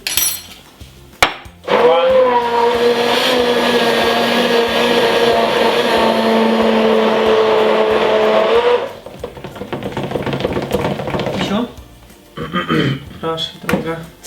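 A hand blender whirs loudly and steadily for about seven seconds, then cuts off; voices are heard briefly before and after.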